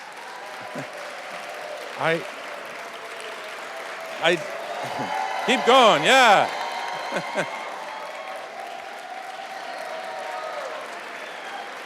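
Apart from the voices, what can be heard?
round of applause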